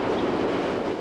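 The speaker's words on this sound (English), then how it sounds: "Stand here for a minute and see how many trains go by." Train going by near a park: a steady, loud, broad rumble with faint rattling fills the whole second, with no voices.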